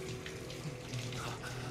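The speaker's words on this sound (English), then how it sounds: "Keep that tap running." Water tap running in the Hitman 2 video game, a steady, soft splashing stream that continues unbroken throughout.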